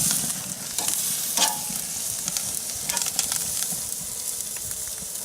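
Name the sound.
steak sizzling on a Big Green Egg grill during reverse sear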